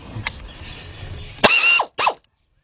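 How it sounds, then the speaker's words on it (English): An air ratchet loosens a bolt during AC compressor replacement on a GM truck or SUV, with a short whirring burst after light handling noise, then a second brief rattling burst before silence. "Let's get our air ratchet up here."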